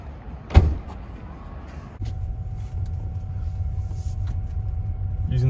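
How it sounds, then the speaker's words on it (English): Trunk of a Seat Leon FR wagon shutting with a single close thump, followed by a steady low rumble of the parked car's surroundings. "Can you close the trunk, Myanmar?"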